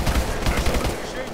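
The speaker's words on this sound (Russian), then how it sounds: "просто месим их тут с пулемета" Rapid machine gun fire in Call of Duty: Advanced Warfare rattles out in a dense, close burst of rounds over about a second, with faint talk underneath.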